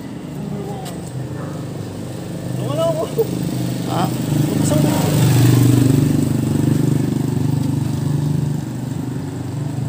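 A Honda Click 125 Version 3 motorcycle engine rumbles steadily nearby with an unusual ik-ik noise, swelling slightly louder midway, with people talking over it throughout.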